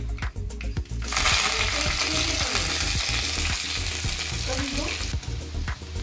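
Onion goes into hot oil already crackling with cumin and mustard seeds, and a loud sizzle flares up. Stirring scrapes and clinks against the pan follow, and the frying keeps hissing close by.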